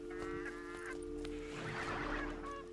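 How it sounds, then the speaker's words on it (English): Honking, goose-like fowl calls from chickens in a video game, several short cackles near and fairly loud over a steady game background hum, with no talking. "I won't walk around with chickens."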